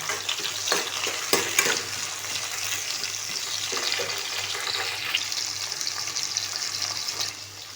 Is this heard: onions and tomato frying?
yes